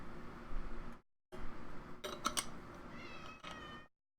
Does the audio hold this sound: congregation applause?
no